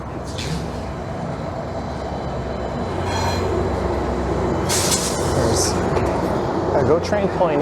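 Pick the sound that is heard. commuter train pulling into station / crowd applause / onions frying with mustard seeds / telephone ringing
commuter train pulling into station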